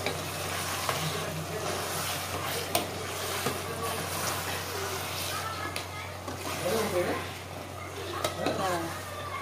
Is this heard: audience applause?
no